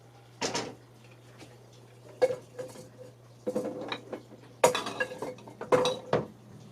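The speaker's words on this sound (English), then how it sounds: "So I put the dried cabbage in here." Containers of dried cabbage set down on pantry shelves, producing several separate clunks and clinks of jars or dishware at close range, with a steady low hum underneath and no talking.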